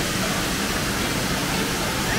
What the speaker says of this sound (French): sur tout le front, il y a de l'eau qui coule et c'est beaucoup plus important